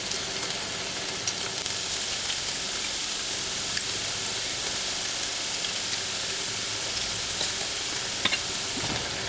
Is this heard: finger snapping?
no